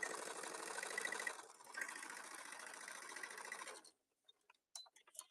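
A sewing machine stitches a pouch handle in a steady, rapid mechanical whir for about four seconds, briefly slowing partway through, then stops, leaving a few faint clicks.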